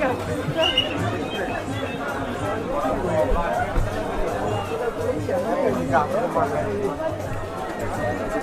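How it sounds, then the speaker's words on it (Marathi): A large crowd of pilgrims gathers at Ekveera temple, producing a dense, continuous murmur of many voices with nearby people talking over it. "एवढी गर्दी झाली ना आता"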